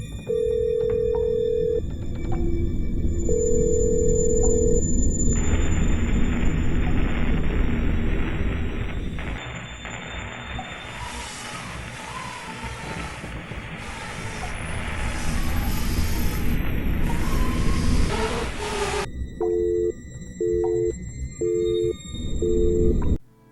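A phone call in the horror video game The Windows Are Gone: tones from the dialed number and a ringback pattern, then a long stretch of harsh, distorted noise, and finally a beeping busy signal.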